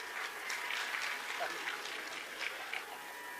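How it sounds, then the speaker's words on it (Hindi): Applause from an audience at a Hindu religious discourse, a dense wash of clapping that runs steadily through the whole stretch, with no single claps standing out. "अभी तो ताली बजा रहे हैं"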